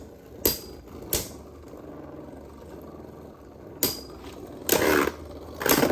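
Beyblade Burst tops, including Gatling Dragon, clash in a plastic stadium: a few sharp, loud metallic-plastic hits spaced apart, with a steady spinning whir underneath.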